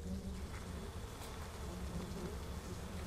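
Bees buzz steadily and faintly in an open rural setting, a continuous low droning hum with no distinct breaks and no voices over it.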